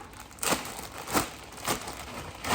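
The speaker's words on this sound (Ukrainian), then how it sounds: "Зараз я достаю із пакетика." Crinkling plastic bag being opened to take out a pillowcase, with several crisp rustling bursts at irregular intervals, close and fairly quiet.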